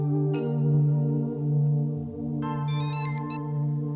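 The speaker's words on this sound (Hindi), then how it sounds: "मैं मालिका को फोन करके देखता हूँ।" Outgoing phone call ringing in a Hindi TV drama scene, a steady electronic ringback tone repeating over a low background hum, with a brighter burst of tones near the end.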